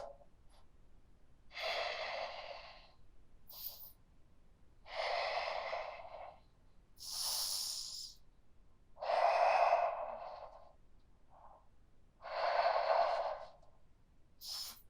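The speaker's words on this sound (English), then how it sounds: "Super strong deep breath." Slow, deep breathing during a yoga stretch, with six or so long, close inhales and exhales spaced a couple of seconds apart against a quiet background.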